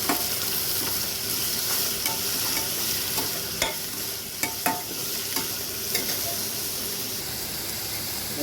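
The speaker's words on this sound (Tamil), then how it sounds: "பாருங்கள், வெங்காயமும் பச்சை மிளகாயும் நல்லா வதங்கிடுச்சு" Onion, curry leaves and green chili sauté in an Indian-style pan for a carrot and beans poriyal, giving a steady, close sizzle with bright spitting hiss and a few sharp crackles and stirring clicks throughout.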